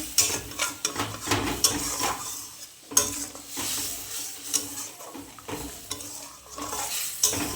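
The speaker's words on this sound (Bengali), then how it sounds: "সামান্য একটু জল দিলাম, কারণ মশলাটা অল্প মশলা তো, মশলাটা একটু কষানোর জন্য।" Shrimp masala is stir-fried in a pan with a little added water, giving a continuous sizzle under repeated scraping and clattering strokes of a spatula against the pan.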